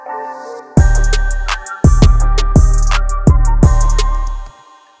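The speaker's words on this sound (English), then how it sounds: "I also added this reversal effect for a transition" In a sad trap-style beat, a reversed-audio effect acts as a transition: loud, swelling chords with punchy low hits roughly every second and a rising backwards sweep, fading out at the end.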